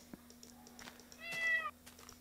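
A cat in the Minecraft video game gives one short, rising meow in the middle of a quiet stretch, faint and alone, with a few soft game clicks around it.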